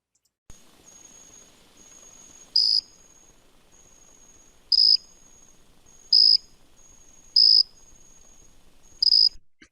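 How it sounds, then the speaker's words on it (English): Jumping bush cricket (Hapithus saltator) singing, a thin high continuous trill punctuated by five louder, sharper bursts at regular intervals, close and clear against a quiet background. "Jumping bush cricket, a Hepithus saltator."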